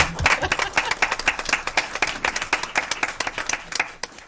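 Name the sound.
applause for the HR department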